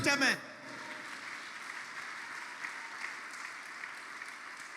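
Church congregation at a revival seminar applauding and cheering, a brief voice at the start, then sustained distant clapping and acclamation filling the hall at moderate volume.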